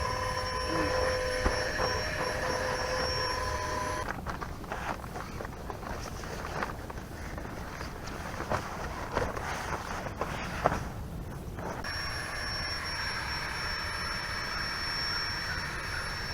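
A portable air inflator pump runs at a campground, a steady close whirring drone that holds for the whole stretch, with slight shifts in tone partway through.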